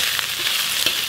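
Bean sprouts, cabbage and greens are tossed in a hot wok for kwetiau, making a dense, even fry hiss with a couple of quick stirring scrapes.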